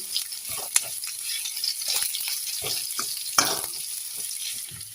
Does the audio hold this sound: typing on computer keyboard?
no